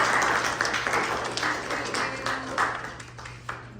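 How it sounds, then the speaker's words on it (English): Audience applause after a presentation on vaccination, steady broadband clapping of moderate loudness that thins out slightly toward the end, with faint voices underneath. "guys for applause for Natalia for starting us off"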